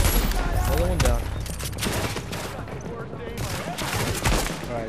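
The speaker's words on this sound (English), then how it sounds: "can y'all stop shooting here?" Dense bursts of rapid gunfire in the video game The Division crackle continuously, loud and close, with brief quieter gaps and a voice talking underneath.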